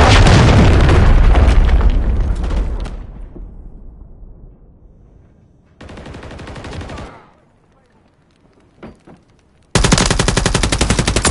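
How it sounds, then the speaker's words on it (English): Cruise missile strike and gunfire in Call of Duty: Modern Warfare: loud bursts of machine-gun fire and a heavy boom decay into rumble, followed by another gunfire burst, a few faint pops, then renewed rapid fire. "Friendly cruise missile approaching target."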